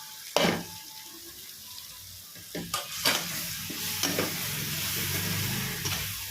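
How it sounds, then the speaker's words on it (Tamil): Spice powders (garam masala, fennel-cumin powder and chilli powder) sautéed in oil for mutton chukka: steady soft sizzle with a few sharp stirring scrapes and clinks, close by, no talk. "இப்போ கரம் மசாலா, சோம்பு சீரகத்தூள், மிளகாய்த்தூள், இது குழம்பு மிளகாய்த்தூள், இது 3மே நம்ம இதில் போட்டு நல்லா வதக்கிறோம்"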